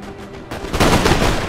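Infantry fire a musket volley in Napoleon Total War during a Prussian campaign battle: a quiet ambient lead-in, then a sudden burst of many overlapping gunshots that rolls into a loud, sustained crackle.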